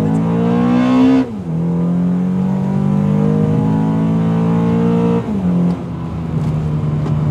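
Modified automatic Honda Accord Euro pulling hard under acceleration, a loud steady engine roar climbing in pitch, then a brief dip as it shifts near second one and again near five seconds before building once more.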